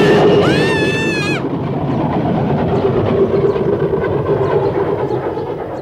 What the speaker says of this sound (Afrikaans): Dis ons trein daai, Heidi, sien jy?